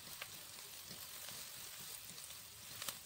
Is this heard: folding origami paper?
no